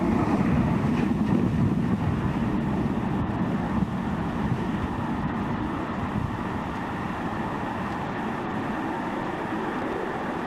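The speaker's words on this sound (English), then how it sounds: "And liftoff of Falcon 9." A SpaceX Falcon 9 rocket lifts off from Space Launch Complex 4 East at Vandenberg, sending out a continuous, broad, roaring rumble that holds steady and fades slowly, heard alone without voices.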